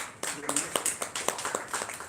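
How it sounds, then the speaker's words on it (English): Audience clapping at a film festival award ceremony, a small crowd's scattered, uneven claps in quick succession, moderately close, with a voice speaking over them. "So please give a round of applause."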